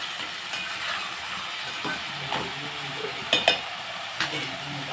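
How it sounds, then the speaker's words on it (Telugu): Onions and tomatoes sauté in a pan for a home-style curry, giving a low steady sizzle and hiss with a few sharp stirring clinks near the end, close by and with no talking. "ఇప్పుడు ఉల్లిపాయలు మగ్గుతున్నాయి కదండి ముందుగా పచ్చడి వేసేస్తున్నాము"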